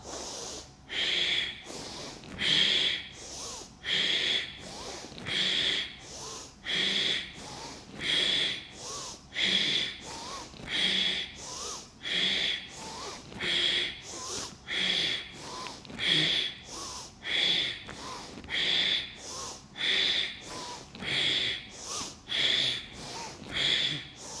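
Rapid, forceful breathing exercise of repeated sharp nasal exhalations pumping at a steady, fast rhythm, each one a loud close snort-like puff, continuing evenly for many rounds with no talking.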